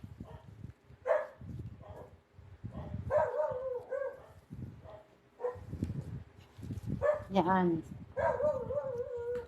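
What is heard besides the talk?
dog barking outside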